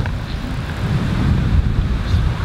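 Wind gusts buffet a microphone at Boracay beach, with ocean surf rumbling low and steady beneath it for a few seconds.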